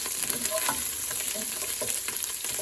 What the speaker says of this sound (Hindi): ये हल्का सा फ्राई करना है